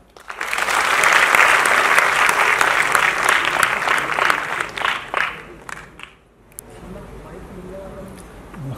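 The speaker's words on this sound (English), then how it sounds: "So I think you guys can clap for yourself." A college festival audience at the NM College Umang Festival 2016 breaks into loud, dense applause that holds for several seconds, then thins out and fades, leaving quieter talk afterward.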